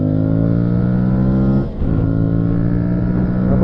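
An Aprilia Tuareg 660 motorcycle engine revs loud and close with a steady droning tone, dipping briefly midway before picking back up.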